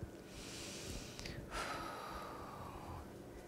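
A close, breathy exhale and sniff during a balance board squat, faint against a soft background.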